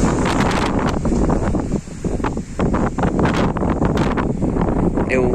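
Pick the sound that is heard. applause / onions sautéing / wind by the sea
wind by the sea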